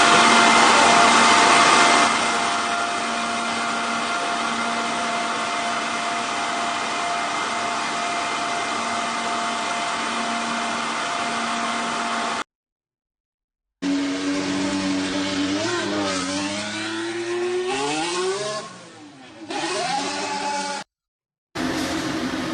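A Renault R.S.20 Formula 1 car, driven by Fernando Alonso, heard in bursts of loud, steady high-pitched engine whine, then rising and falling revs as it leaves the garage, broken by short silent cuts.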